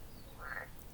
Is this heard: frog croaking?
yes